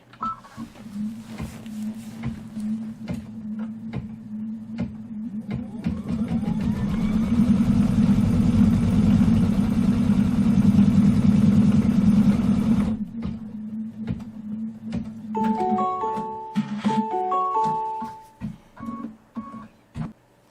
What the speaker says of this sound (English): foot down, and let's stitch out the placement line